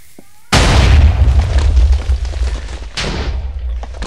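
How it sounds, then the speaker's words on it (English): Cannons explode in a pirate battle royale video game, with one heavy booming blast followed by rumbling decay, then a second explosion a few seconds later, loud and with no voices. "Why are all my cannons just blowing up?"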